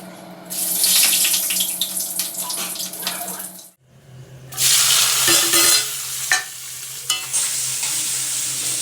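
Tap water running into empty bottles in a home kitchen while cooking goes on, a loud steady gush with a short break midway before the filling resumes, occasional clinks and knocks on top.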